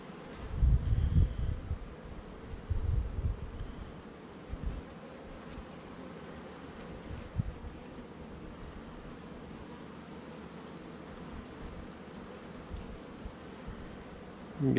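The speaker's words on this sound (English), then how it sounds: "Okay, guard bees, calm down." Honey bees buzz steadily close by, with louder bursts of buzzing and rustling near the start, then a softer, continuous hum.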